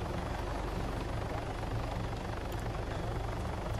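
A video game helicopter's rotor thumps in a steady, continuous drone, loud and close, with no speech.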